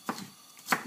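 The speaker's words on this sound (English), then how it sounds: "Then I cut my pepper into slices" A knife slicing a bell pepper on a board, heard as two quick, crisp cuts close by with a short quiet gap between them.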